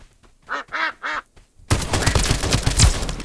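Ducks quack in the video game Escape From Duckov, three distinct nasal quacks in quick succession, then a sudden dense burst of loud gunfire that fills the rest.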